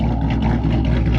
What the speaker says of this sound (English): let's hear this thing. Got a little chop going on, little chop.